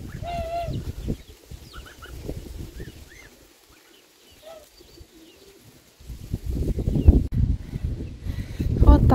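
Chicks cheep and cluck softly near a water dish in a village yard, scattered short chirps over a quiet background, with someone talking and louder rustling and knocking toward the end.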